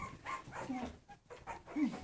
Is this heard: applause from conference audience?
no